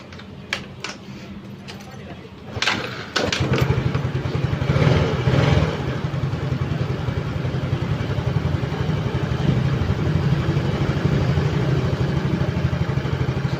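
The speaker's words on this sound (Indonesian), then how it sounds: "Kita hidupkan motornya." A Yamaha Mio J motorcycle is cranked after a few clicks and clatters, catches, and settles into a steady close idle that continues to the end.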